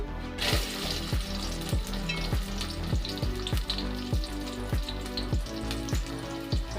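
Finely chopped onions frying in hot oil for an egg sambar, a dense continuous sizzle with a regular series of low knocks from stirring, close and fairly loud throughout.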